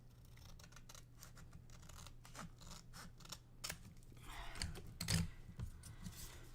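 Scissors trim paper for an underwater-themed birthday card, giving quiet, close snips over a soft paper rustle, with a louder clatter of handling near the end.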